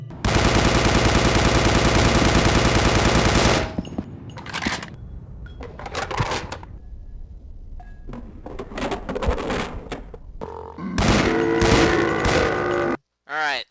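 A submachine gun in the Resident Evil: The Darkside Chronicles video game fires a long rapid burst, then comes a stretch of scattered game sounds and a second burst near the end.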